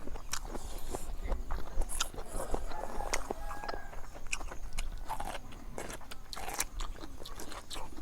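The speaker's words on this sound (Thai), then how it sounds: "มาพี่น้องมากินยำข้าวหมูย่างกัน" Close, steady chewing and crunching of a spicy grilled pork rice salad, with soft bites and mouth noises continuing for the whole stretch over a faint background hiss.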